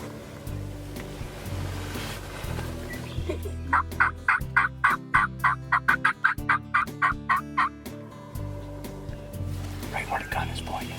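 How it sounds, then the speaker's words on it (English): Wild turkeys gobble out in a cornfield, a fast run of about a dozen sharp rattling calls. They come across fairly clear over steady outdoor background noise, with people talking quietly before and after. "Megan, can you see the turkeys up on the cornfield?"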